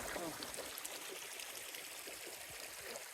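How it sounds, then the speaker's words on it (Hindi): Mountain stream flowing through a forest, a steady broadband rush and gurgle of water that stays constant and fairly close, with no speech over it. "तो अब अली भाई स्ट्रीम में पानी पीने गए।"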